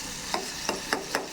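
Fenugreek seeds crackle and sizzle in hot butter in a pan, with four quick, evenly spaced stirring scrapes over a steady frying hiss.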